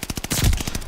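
A rapid burst of gunfire through a wall in the Call of Duty: Vanguard free-for-all match, a loud, close series of shots lasting under a second.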